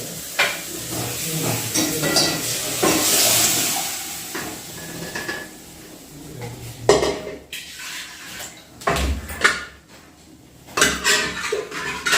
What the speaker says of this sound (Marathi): आता त्यामध्ये लगेच शिजवलेली तुरीची डाळ टाकायची